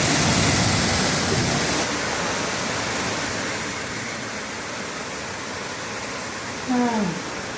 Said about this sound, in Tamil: பஞ்சலிங்க அருவியில் குளிக்கிறோம்.